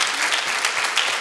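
A studio audience at a televised Azerbaijani talk show applauds, a dense, steady wash of many hands clapping close and loud throughout, with no voices over it.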